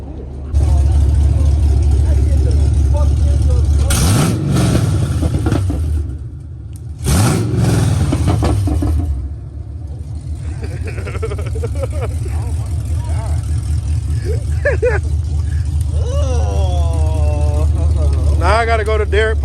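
A fifth-generation Chevrolet Camaro SS fitted with long tube headers roars at close range, revving loudly in repeated blips and rises, then settling into a rumbling idle while people talk over it.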